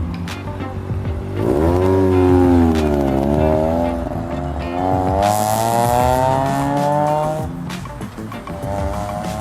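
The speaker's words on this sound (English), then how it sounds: "Yes, that was an RX-7." A Mazda RX-7 passing on a street, its engine note rising and falling in a loud, close pitched whine as it revs and drives by, then fading away.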